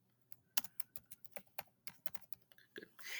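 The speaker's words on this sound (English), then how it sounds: "I'm going to click in there and start typing" Rapid, uneven keystrokes on a computer keyboard while text is entered into an image editor, sharp close clicks in a steady burst with no talking.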